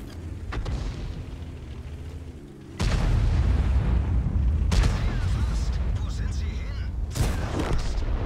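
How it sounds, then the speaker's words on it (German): Artillery shells bursting in World of Tanks, a string of heavy booming impacts starting near the three-second mark with more blasts landing later, loud and rumbling over the battle noise, with someone talking at times. "da hat die Arti mal fleißig daneben geschossen"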